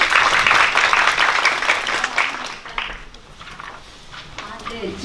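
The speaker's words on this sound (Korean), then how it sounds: "박수로 맞이해 주시면 감사하겠습니다" An audience at a symposium claps to welcome a professor to the stage, the applause loud and dense at first and then thinning and fading toward the end, with faint voices stirring underneath.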